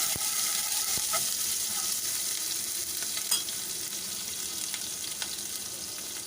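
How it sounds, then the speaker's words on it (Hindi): Garlic sautéing in a tablespoon of oil over medium-low flame gives a steady, fairly close sizzle, with occasional light stirring clicks and no voices. "अब इसके अंदर मैं 1 टीस्पून ये लहसुन का डाल दूँगी और इसको हम थोड़ा सा सौते कर लेंगे।"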